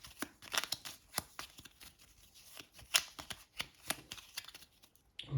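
A Resident Evil 3 board game card deck is shuffled by hand, a series of sharp riffling bursts and soft card slaps repeating close up at moderate volume, with no voices.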